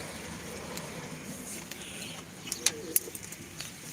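Soft coos and low murmuring from nearby pet pigeons over a steady background hum, with a few sharp clicks and flutters near the end.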